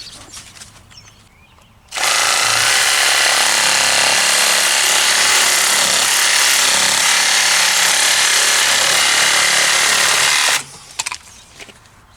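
A saw cuts through broken PVC sprinkler pipe in a self-draining system, giving one loud, steady, rasping cut that lasts about nine seconds up close, with quieter handling noise before and after.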